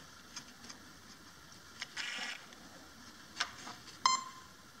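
A few short electronic beeps sound after the battery is reconnected on a ZOHD Nano Talon RC plane with a receiver, scattered quietly over faint background hiss, with a sharper beep near the end.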